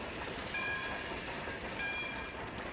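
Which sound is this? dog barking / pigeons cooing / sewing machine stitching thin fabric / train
train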